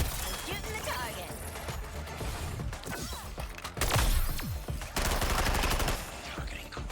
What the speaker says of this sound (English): I'm shooting the target.